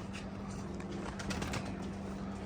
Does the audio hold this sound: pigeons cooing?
yes